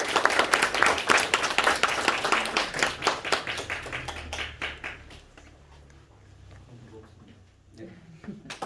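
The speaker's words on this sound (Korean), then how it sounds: "자, 큰 박수 부탁드리겠습니다." An audience at a theatre award ceremony breaks into brisk, close applause that gradually thins into a few scattered claps, while voices talk underneath as it dies away.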